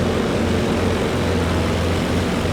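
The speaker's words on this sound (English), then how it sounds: "Anti-tank planes coming in from Artavick as well" Anti-tank attack planes flying in over a battlefield in Company of Heroes 2, a loud, steady droning engine roar with broad rushing noise that holds constant throughout, no voices.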